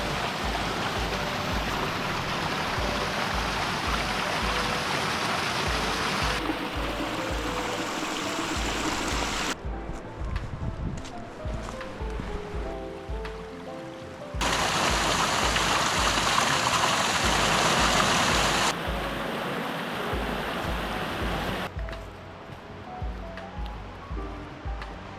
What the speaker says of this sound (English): check out that waterfall up there, pretty cool